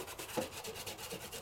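A die-cut paper piece is burnished by hand, giving soft, quiet rubbing strokes in a brief run of repeated swipes up close.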